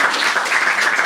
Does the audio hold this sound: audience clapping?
yes